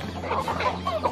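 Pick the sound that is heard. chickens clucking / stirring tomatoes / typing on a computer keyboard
chickens clucking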